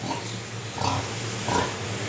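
A pig on a household farm gives three short, low grunts at close range, evenly spaced over a couple of seconds, against a faint background hum.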